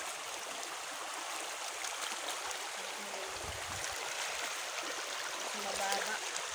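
A steady broadband rush of strong river current, continuous and fairly close, with a brief voice and some faint movement sounds over the flowing water.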